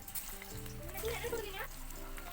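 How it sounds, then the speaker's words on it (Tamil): Moong dal vada fry in hot oil in a deep pan, giving a brief, bright sizzle and bubbling up close, alone without speech. "இப்போ சிறு சிறுசாக போட்டு எடுத்திங்கன்னா சூடான வடை ரெடிங்க"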